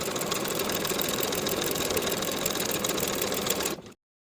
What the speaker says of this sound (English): I'm going to top stitch that seam allowance in place straight across